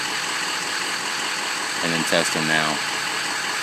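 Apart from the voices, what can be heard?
diesel truck engine running at idle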